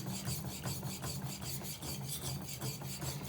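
A Shirogami steel knife is sharpened on a Japanese natural stone, making a steady rhythmic rasping of back-and-forth strokes, close and continuous, with no voices.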